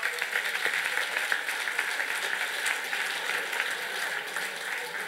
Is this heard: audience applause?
yes